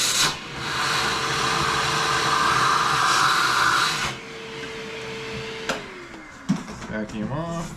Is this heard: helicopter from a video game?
no